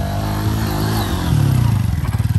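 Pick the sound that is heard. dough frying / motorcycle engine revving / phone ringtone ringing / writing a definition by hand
motorcycle engine revving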